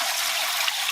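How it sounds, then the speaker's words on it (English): Water pours into a home canner for jars of Thai chicken red curry, a brief steady rushing splash at close range without any talking. "you need to pour in the water for your canner"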